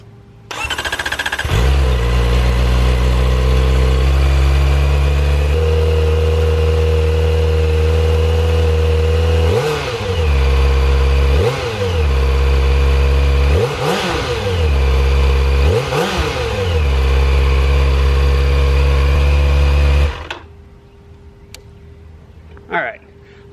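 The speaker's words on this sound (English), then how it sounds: "I'm gonna go ahead and fire this thing up. You can hear the original exhaust." A Kawasaki ZX-4RR motorcycle with its original exhaust idles loudly, then revs in several sharp bursts before cutting off abruptly, leaving near silence.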